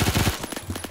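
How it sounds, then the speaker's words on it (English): Rapid automatic fire from a Colt light machine gun in the Roblox game Phantom Forces, one close, loud burst of quick shots, then a few more spaced rounds, with no talk over it. "Colt LMG, light machine gun"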